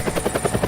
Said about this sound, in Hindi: अब आप सोच रहे होंगे कि ये हेलीकॉप्टर कहाँ से आ गया।